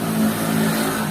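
Vehicle noise from a road outside a home in the morning, a brief engine drone rising slightly as a car passes, moderately loud and heard through the room.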